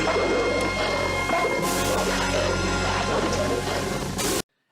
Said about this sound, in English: knock it out, Bethlehem. Why not? It's only glass.